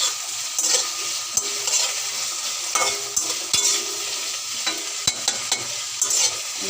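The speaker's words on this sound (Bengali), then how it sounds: "দিয়ে দিলাম পেঁয়াজ রসুন বাটা, পেঁয়াজ কুচি, আদা রসুন বাটা" Onion, garlic and ginger paste frying in a pan for a fish dish, an even sizzle broken by frequent scraping stirs and sharp utensil taps against the pan, close and fairly loud, with no talking.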